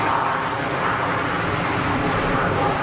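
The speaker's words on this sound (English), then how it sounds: "Is that a PC-24" A Pilatus PC-24 business jet taxis out at Geneva Airport. Its engine makes a steady, broad roar at middling distance that stays even throughout.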